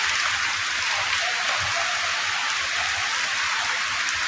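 Heavy rain pours down steadily, a dense, continuous hiss of drops drumming on surfaces close by, with no talk over it.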